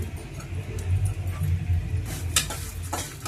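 Lentils and garlic fry in a pan for a mint and raw mango chutney, with a low continuous sizzle under clinks and scrapes of a spoon stirring, growing brighter near the end, no voices.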